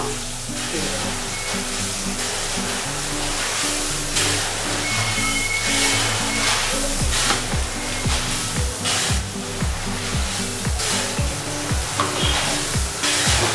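Bengali spice paste fries and sizzles steadily in a pan, a dense bright hiss over the whole stretch with repeated scraping knocks as it is stirred and dried out.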